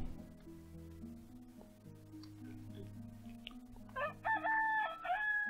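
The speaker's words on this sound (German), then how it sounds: "Der Hahn kräht mit Tag." A rooster in the colony-building game Towns crows once near the end, a clear multi-part cock-a-doodle-doo rising over soft background music, with no one talking.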